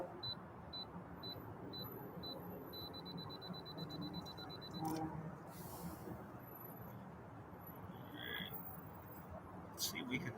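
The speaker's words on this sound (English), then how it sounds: "Oh, that's just the countdown for taking the picture" Camera self-timer countdown on a telescope setup imaging Mars, a series of short, faint, evenly spaced electronic beeps, then a longer tone, over a quiet hiss with no talking.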